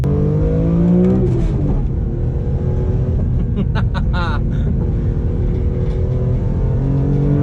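A BMW E46 M3 accelerates hard in sport mode, its engine note climbing through rising revs with a sharp shift partway through, loud and close from inside the car.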